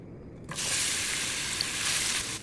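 Onions hit hot oil in a pan with a sudden sharp sizzle, which then holds as a steady, bright frying hiss close by, with no talking.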